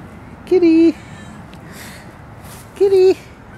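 Two clear meows, about two seconds apart, each a short sustained cry over a quiet background with faint distant sounds.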